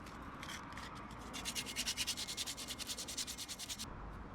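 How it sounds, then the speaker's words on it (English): Sandpaper working over rusty spots on a Honda CB125R motorcycle part, a steady rhythmic rasp of fast back-and-forth strokes, close and fairly loud, with no talking. "I'll sand those places because they're rusty"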